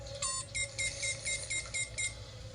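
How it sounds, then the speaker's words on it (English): Electronic detector beeps from the board game Xenoshyft pulse in a quick regular rhythm, about eight short bright bleeps over a low steady hum. "Here we got a detector."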